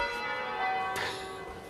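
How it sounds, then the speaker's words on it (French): Church bells ring out across Bergamo's old town, sustained, ringing tones with a fresh strike near the middle, resonant and moderately distant, with no voices over them. "Ça te fait quoi quand t'entends les cloches comme ça?"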